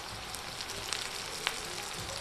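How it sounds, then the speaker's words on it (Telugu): Mint leaves sizzle steadily in chicken curry masala in a pan, a continuous soft frying hiss with faint scattered crackles and no talking. "ఇప్పుడు పుదీనా వేసుకుంటున్నాను."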